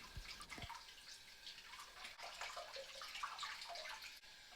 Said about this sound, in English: I try to use lukewarm water when cleaning my brushes